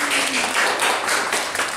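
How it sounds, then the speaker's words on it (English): A short burst of dense, even applause from a crowd at a communal canvas painting event, cheering the artists at close range. "I think the artists around here need a round of applause."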